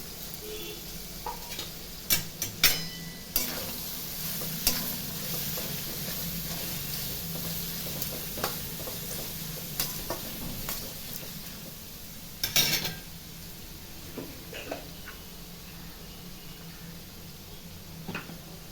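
Onions frying in a pan for masala dosa, a soft steady sizzle broken by intermittent clinks and scrapes of a spoon stirring, fairly quiet and without talk.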